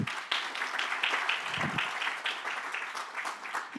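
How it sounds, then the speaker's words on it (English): An audience at a stakeholder forum gives steady applause, a continuous patter of many hands at moderate distance, fairly even in level from start to finish. "Thank you. Applause."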